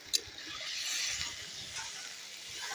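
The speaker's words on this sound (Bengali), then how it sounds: "এখন আমি পরিমাণ মতো জল দিয়ে দিব।" Water poured into a spice paste frying for a village-style fish curry, a soft hiss and sizzle at moderate level, steady and fading slightly, with a small clink at the start; no talking.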